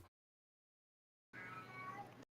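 A cat gives a single drawn-out meow, brief and fairly faint, following a stretch of silence.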